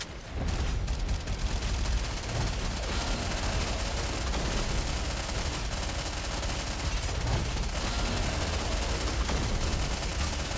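Sustained, dense gunfire from the shooter game Nikke, rapid overlapping shots and bursts firing continuously, loud and steady throughout with no talk.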